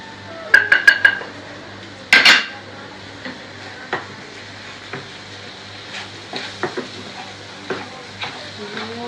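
Offal seasoned with salt, pepper and cumin is stirred in a frying pan with sharp metal utensil clanks at first, then a soft sizzle under scattered scrapes and taps.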